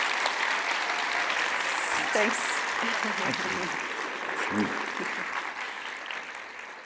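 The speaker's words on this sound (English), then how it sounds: "give this a warm applause" Design talk audience gives a speaker warm applause, sustained dense clapping filling the hall and slowly tapering, with brief spoken words and a whoop or two over it.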